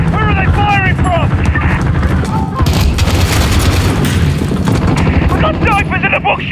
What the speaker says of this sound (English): They're firing rockets from the roof of the Tanto building.